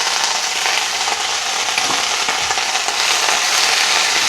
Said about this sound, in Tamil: புதினா எடுத்துட்டு நிறைய நேரம் வதக்க வேண்டாம்.